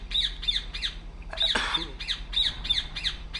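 Repeated harsh squawks from a bird in the video game Republique, sounding in short bursts of two or three calls that recur about every half second over a low hum, with a brief rustling burst in the middle.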